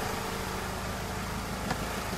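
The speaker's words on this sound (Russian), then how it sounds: "Работает приятно и хорошо. То есть мотор не трусит." A Ford Transit Connect 1.8 engine idles after a fuel pump repair, running with a smooth, steady low hum and even vibration, close and constant, with no voices.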